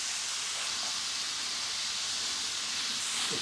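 Jalapeno hits a pan with chorizo and onions, a steady close broadband sizzle that holds evenly throughout, alone without talk.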